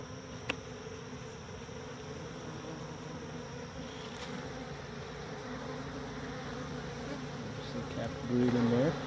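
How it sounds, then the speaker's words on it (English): A swarm of honey bees hums steadily around exposed hive comb in a box in Yaguarón, Paraguay, a close, continuous buzz with occasional single bees passing near. "Some comb on each side, a bunch of bees."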